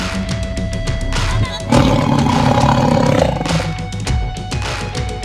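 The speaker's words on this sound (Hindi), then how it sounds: "शेर के दहाड़ने से भालू चौंक गए।" A cartoon lion's roar bursts out loud and sustained in the middle of a children's animated story, framed by a rumbling, busy background score.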